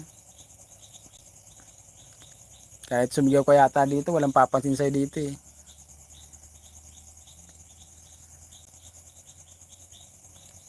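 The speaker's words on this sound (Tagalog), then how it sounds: "maririnig mo lang dito, kuliglig" Steady high-pitched cricket chirping pulses throughout, with a person speaking briefly over it in the middle.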